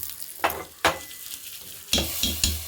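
Mustard seeds, urad dal, chillies and asafoetida crackle in hot ghee, with a steady sizzle broken by several sharp spattering bursts and stirring scrapes, close and fairly loud.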